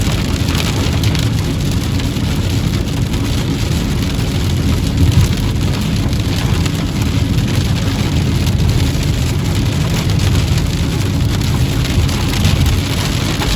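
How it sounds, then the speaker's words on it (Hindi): Heavy rain falls in Calgary, a loud continuous hiss and patter of drops on surfaces. It stays steady and dense throughout with no speech over it. "तो ये आप देखें कितनी तेज़ बारिश हो रही है।"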